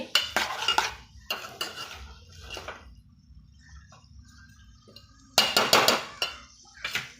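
Capsicum pieces fry in oil as a spoon stirs them, giving bursts of close scraping and clinking against the pan between quieter stretches of faint sizzling, with no speech.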